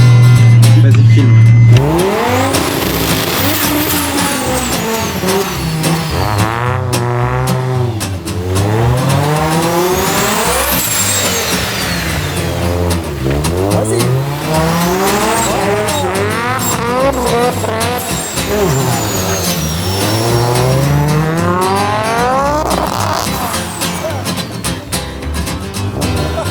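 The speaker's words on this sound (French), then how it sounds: "Je peux faire des donuts?" An Audi doing donuts, its engine revving up and down in long repeated swells while the tires squeal and skid continuously, loud and close from inside the car, with some voices now and then.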